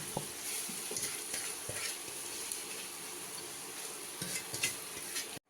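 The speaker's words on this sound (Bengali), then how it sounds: "তো আমরা এখন হচ্ছে এই মুরগির মাংসটা ভালোভাবে ভেজে নিব" Marinated chicken pieces fry in hot oil in a frying pan, giving a continuous soft sizzle with scattered crackles and occasional utensil scrapes and clinks against the pan, fairly quiet and close, with no speech.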